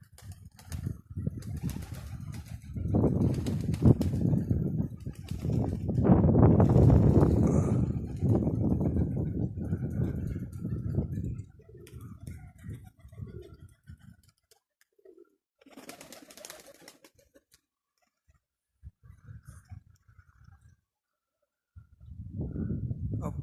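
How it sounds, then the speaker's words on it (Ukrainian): Pigeons released into strong wind take off in bursts of wing flapping and buffeting gusts, loud at first, then fading into quieter stretches with occasional flutters. "И голуби сипанулись и пошли вверх"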